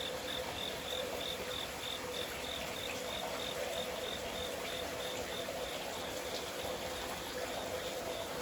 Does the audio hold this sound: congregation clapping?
no